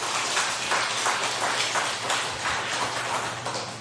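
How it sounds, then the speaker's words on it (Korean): A church congregation at a Sunday afternoon worship service applauds the deaconesses, producing a steady, dense patter of many hands clapping over a faint low hum, evenly sustained for a few seconds. "우리 권사님들 향해 우리 박수 한번 해주시죠."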